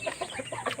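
Chickens and chicks on a mountain farm clucking softly in a few short, close bursts while being fed.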